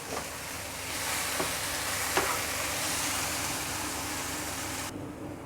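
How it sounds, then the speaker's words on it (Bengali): Onion and potato fry in a pan for a mughlai filling, giving a steady, close hissing sizzle with a few sharp stirring scrapes, then it cuts off abruptly near the end. "পেঁয়াজটা ভাজা হয়ে গেছে, আলুটাও সিদ্ধ হয়ে গেছে।"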